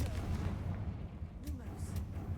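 A Confringo spell explosion in the Hogwarts game gives a low rumbling boom that rolls on for a couple of seconds, with a faint voice under it.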